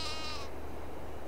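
A sheep in Farming Simulator gives a single wavering bleat in the first half-second, loud and close, and then a steady low hum remains.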